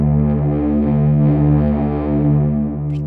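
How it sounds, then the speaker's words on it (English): Guitar played through an amp tone with reverb added to wash it out, a sustained distorted chord ringing loud and steady with a smeared, spacious tail. "Let's add the reverb to wash it out."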